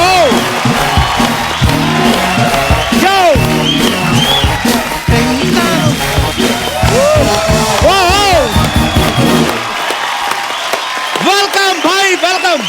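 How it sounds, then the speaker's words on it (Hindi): Studio audience clapping and cheering on a comedy talk show as Salman Khan and Katrina Kaif arrive, with loud music playing over it and hosts talking, the crowd noise mostly buried beneath. "प्लीज वेलकम आपकी जोरदार तालियों के बीच मिस्टर सलमान खान एंड कटरीना कैफ"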